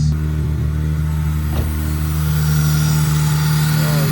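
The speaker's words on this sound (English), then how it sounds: "after a while, it just does that Honda idle surge" An Acura RSX Type S engine runs loud and close at a high idle, with a steady droning hum, a faint rise and fall in revs, and a brief tap partway through.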